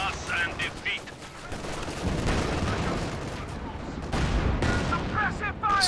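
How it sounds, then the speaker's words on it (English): A Panzer IV tank firing in a Company of Heroes 2 battle, its shots mixed with a steady crackle of gunfire and blasts while a commentator talks over the action. "Attack round there from the Panzer IV."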